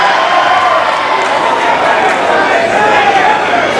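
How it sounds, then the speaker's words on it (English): A live crowd at a wrestling event roars steadily for a signature move, a dense wall of cheering and shouting that fills the whole clip at high volume. "The crowd loves it every time as well."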